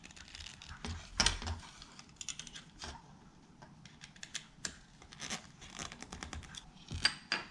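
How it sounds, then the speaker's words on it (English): Screwdriver turning and tightening small screws on a plastic robot kit, with irregular close ticking and scraping clicks in short bursts at low volume, no talk. "Then tighten the screws with the screwdriver."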